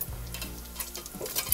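Thyme and cayenne pepper dropped into hot oil in a pot for Louisiana red beans and rice, giving a brief, steady sizzle with faint stirring, close by and moderately quiet.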